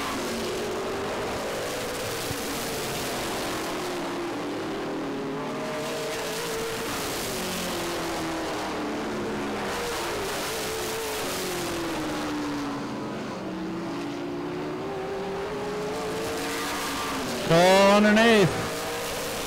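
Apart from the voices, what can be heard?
race cars on a speedway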